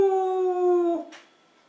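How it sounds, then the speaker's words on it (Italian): A dog gives one loud, close, sustained howl lasting about a second with a steady pitch, then breaks off into a brief soft scuff and silence. "Appena senti qualche cane,"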